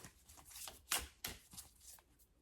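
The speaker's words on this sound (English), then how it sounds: "So shuffle the cards." Tarot cards are shuffled by hand, up close and fairly quiet: a run of crisp riffling and slapping bursts in an uneven rhythm, with one sharper snap near the middle and no talking.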